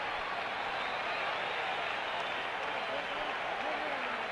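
A stadium crowd cheers and applauds for the American League bench at the 1977 MLB All-Star Game in New York, a steady, distant wash of clapping and roar that holds throughout.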